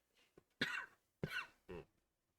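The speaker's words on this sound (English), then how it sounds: "Cough." Three or four sharp, close coughs during a podcast recording, with a small throat sound first and short pauses between bursts.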